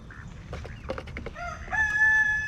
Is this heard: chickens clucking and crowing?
yes